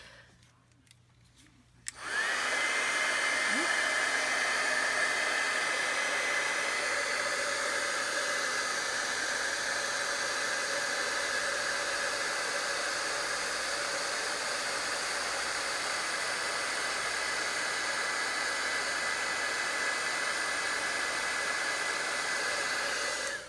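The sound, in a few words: heat tool heat-setting stamped ink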